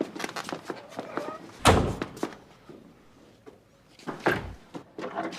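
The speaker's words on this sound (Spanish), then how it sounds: "porque me das con la puerta a las narices" A heavy door thumps shut against someone in a drama scene, one loud wooden thud standing out amid voices, with a second softer knock later; people speak throughout.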